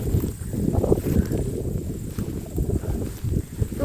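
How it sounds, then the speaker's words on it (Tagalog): Strong wind buffeting the microphone on a bush walking track, a continuous low rumbling roar with gusty surges and no speech. "Medyo malakas ang hangin."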